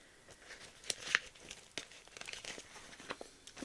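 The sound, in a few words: handling zippered plastic envelopes in a cloth ring binder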